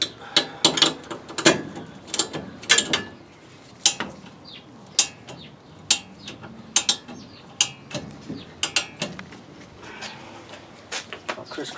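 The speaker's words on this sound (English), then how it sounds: "So we'll snug them up and then get a torque wrench on them." Torque wrench tightening brake bolts on a 1967 front disc brake conversion: bursts of quick ratcheting clicks and metallic clatter in irregular spurts, close by, with occasional speech in between.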